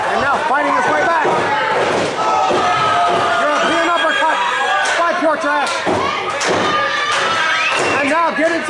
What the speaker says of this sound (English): And now getting some energy from the crowd.